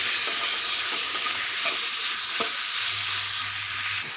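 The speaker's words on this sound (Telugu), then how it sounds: "ఇప్పుడు ఇవి మంచి స్మెల్ వచ్చి కొంచెం లైట్గా కుక్ అయిపోయేలాగా కుక్ చేసుకోవాలి. ఇందులో ఆయిల్ వేసానండి," Ingredients for a low-oil beerakaya pachadi fry lightly in oil, a steady close sizzle with faint scraping stirs and occasional soft taps, and no talking.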